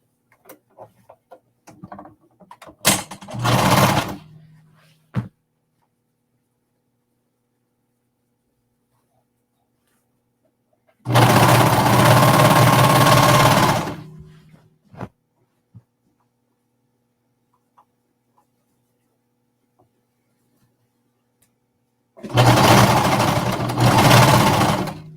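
Sewing machine top stitching a seam in three bursts: a short stuttering start, then two longer steady whirring runs separated by near silence, loud and close, with no talk.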